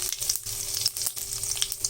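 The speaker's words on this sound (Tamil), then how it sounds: "இந்த கடுகு பொரியட்டும்." Steady sizzling and rapid crackling pops of mustard and cumin seeds spluttering in hot oil, close and continuous, while tempering for manathakkali keerai sambar.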